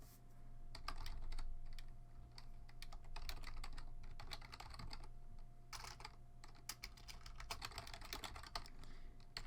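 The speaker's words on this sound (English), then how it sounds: "This is making typing sound." Someone types on a computer keyboard, fast irregular clicking and clacking of keys with a few brief pauses, close and clear with no talk.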